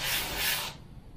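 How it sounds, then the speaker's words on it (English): A short burst of airbrush spray as paint is released onto kitchen towel, a soft, close hiss that cuts off after under a second. "Hold your piece of kitchen towel and just give it a little move back on the trigger, and you will see your paint coming out."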